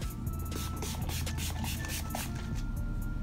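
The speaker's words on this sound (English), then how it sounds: "spray my face" Makeup setting spray hisses close and breathy onto a face in several quick bursts against a steady background hum, with light rubbing sounds in between.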